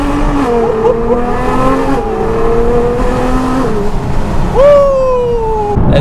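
A 2017 Nissan GT-R accelerates hard from inside the cabin, its engine note climbing in strong rising sweeps, dropping at each gear change and surging again, loud and continuous throughout.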